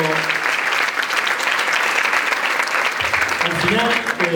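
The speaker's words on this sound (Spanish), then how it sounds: "un aplauso" Sustained, loud applause from a lecture audience holds steady throughout, and a voice begins to emerge faintly under the clapping near the end.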